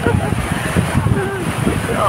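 Ocean waves at Matabungkay Beach in Batangas roll and wash ashore, a loud, close rumbling surf mixed with gusty wind buffeting the microphone.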